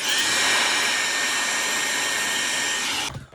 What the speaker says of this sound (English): you don't hold your blow dryer on the same spot for too long